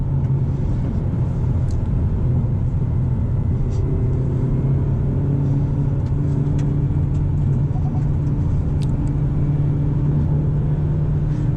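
Hyundai Elantra N with a six-speed manual transmission accelerating on a road, heard from inside as a steady, loud engine rumble and road drone with no talking.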